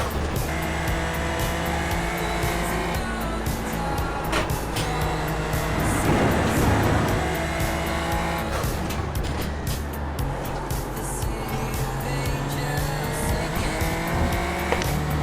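Race car lapping a circuit in a racing video game, engine droning steadily with shifting pitch and occasional tire squeal, continuous and fairly close for the whole stretch without talk.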